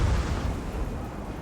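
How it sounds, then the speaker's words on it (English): Hell cannons firing in Total War Warhammer 2, a deep, loud booming blast that rolls into a low rumbling, crackling tail, close and alone without speech. "Look at the exchange of hell cannonry here."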